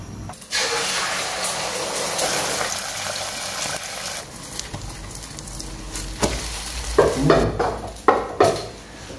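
Eggs stir-frying in hot oil in a wok for tomato and scrambled egg: steady sizzling and hissing with clattering stirring, spatula scrapes and knocks on the pan growing busier toward the end.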